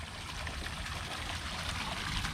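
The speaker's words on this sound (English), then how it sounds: "here is a, what they call an artesian well. A flowing well." Water flows steadily out of the ground from a flowing artesian well, making a faint, continuous trickling rush with no other sounds.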